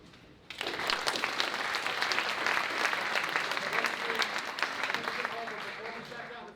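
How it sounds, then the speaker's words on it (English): Sustained applause from an audience at a high school debate event rises suddenly and holds steady for several seconds, dense and fairly loud before easing slightly near the end. "Give them all one more round of applause."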